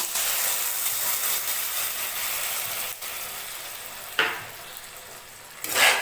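Poppy seed paste frying and being stirred in a pan for a Bengali sukto, a steady close sizzle fading slightly, with a few scraping stirs near the end.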